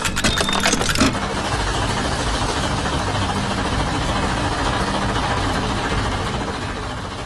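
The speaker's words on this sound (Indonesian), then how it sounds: "Traktor biru dengan ban besar sedang berinteraksi dengan peralatan mekanik, membuat kebisingan yang menggema di tengah bengkel yang sibuk." Animated blue tractor with big tires working among mechanical equipment in a busy workshop, a steady mid-pitched engine hum running continuously after a brief clattering burst at the start, with no talk.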